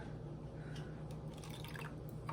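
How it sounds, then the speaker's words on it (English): Water is poured into small cups of face paint, a short, faint trickle and a few soft drips heard up close in a quiet room. "Next, I'm going to add water to them."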